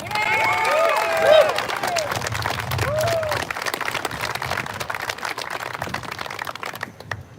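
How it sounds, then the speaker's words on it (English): Crowd at an outdoor Second Amendment rally in Lansing applauds, scattered clapping and some cheering under a voice, with sharp whistles early on, thinning out toward the end. "How about a round of applause for that?"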